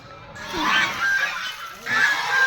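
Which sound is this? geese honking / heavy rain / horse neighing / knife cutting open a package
geese honking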